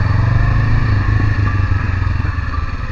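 Honda CB500X motorcycle engine during a test ride, a loud steady running drone with a throbbing low rumble and rough mechanical texture throughout, close and continuous with no talking.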